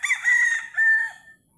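A rooster crows once, clear and fairly close, its call broken into two rising-and-held segments lasting under two seconds, with no other sound around it.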